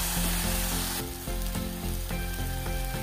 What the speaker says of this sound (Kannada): ಹಾಕಿ ಚೆನ್ನಾಗಿ ಫ್ರೈ ಮಾಡಬೇಕು ಅದನ್ನು.